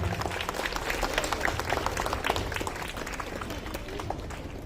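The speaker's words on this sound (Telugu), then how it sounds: "అందరం చప్పట్లు కొడదాం ఒకసారి" Audience applause at a church Christmas carols gathering honouring retirees: dense, steady clapping from a crowd throughout, with some voices mixed in underneath.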